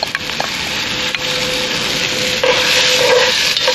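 Julienned green bell peppers and peeled, seeded tomatoes are stirred in a pan over an outdoor cooking fire, giving a continuous close sizzle with scraping and shuffling from the utensil throughout.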